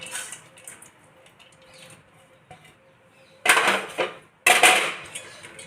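Potatoes and peanuts tipped into sabudana khichdi in a pan, then stirred: quiet scraping at first, followed by two loud bursts of clattering spoon against the metal pan.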